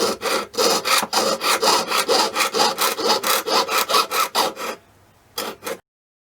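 A jeweler's saw blade, too small for the metal's thickness, cuts metal in a quick, even rhythm of rasping strokes, then pauses briefly before two final strokes, close and alone.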